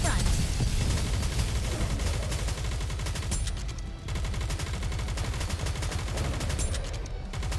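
Rapid automatic gunfire rattles nearly nonstop in the shooter game Nikke: Goddess of Victory, dense bursts of shots with a brief pause midway, loud and close throughout.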